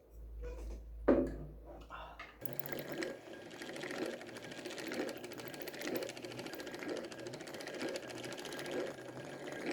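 A hand-turned sewing machine whirs steadily as a bobbin winds with thread, a soft rhythmic mechanical ticking that follows a few quiet knocks and handling noises at the start.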